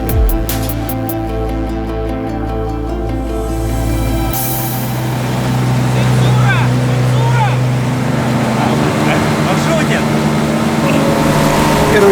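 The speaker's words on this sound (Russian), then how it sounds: "Речка Камчатка, переправляемся на лодке" Motorboat crossing the Kamchatka River against the current, its engine droning steadily and close with water rushing along the hull and a louder surge partway through.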